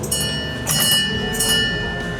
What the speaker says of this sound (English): That's me ringing the bell.